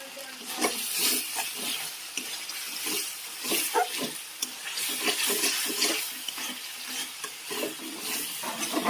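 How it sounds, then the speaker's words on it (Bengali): Spice paste of salt, turmeric, tomato and a little sugar being fried and stirred in a pan, with steady close sizzling broken by repeated scraping strokes of a spoon throughout. "এবার মশলাটা ভালো করে কষে নেব।"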